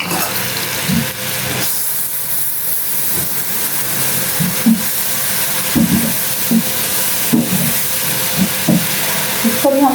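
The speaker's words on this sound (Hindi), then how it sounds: "दो से 3 मिनट हमने सिर्फ प्याज को फ्राई करना है" Onions fry in a pan with a constant loud hiss and sizzle filling the whole stretch, broken by occasional brief clinks and stirring knocks, close up and with no voice over it.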